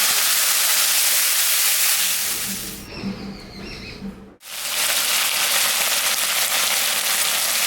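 Boiled potatoes tip into a pan of chopped onions already frying, raising a loud, steady sizzling hiss that briefly softens and dips before surging back to a full, even crackle.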